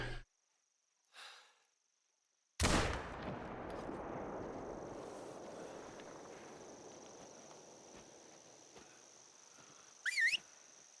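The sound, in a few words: gunshot from a hunting rifle in video game theHunter: Call of the Wild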